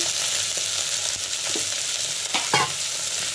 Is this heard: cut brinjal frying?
yes